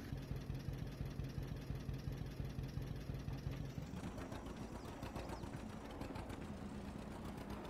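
Older tractor engine idling in Farming Simulator 22, a steady low mechanical rumble that runs continuously and shifts to a choppier, more pulsing chug partway through.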